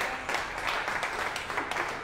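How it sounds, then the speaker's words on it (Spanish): Elderly residents of a care home applaud together, a steady, moderately loud wash of clapping that holds for the whole moment with no pauses. "la manera que tienen nuestros adultos de agradecerles es pues con aplausos y muchas bendiciones"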